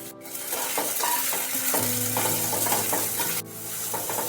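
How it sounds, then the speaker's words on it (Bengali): Carrots and beans stir-frying in a pan for sago pulao: a loud, steady sizzle broken by repeated scraping stirs of the spatula. "গাজর আর বিনস একটু ভালোভাবে ভেজে নেওয়ার পর"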